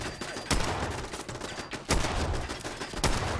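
Turret gunfire in Fallout 4, three sharp loud shots spaced about a second and a half apart over a busy rumbling game background, with no speech.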